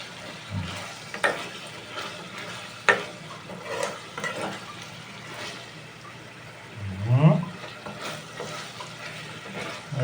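Chicken adobo cooking in a pan, with soft stirring scrapes and intermittent clinks over a low sizzle, a brief louder swish near the end, and no talking.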